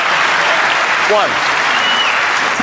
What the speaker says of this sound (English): A generous round of applause for a very good plant and a little bit of good fortune this time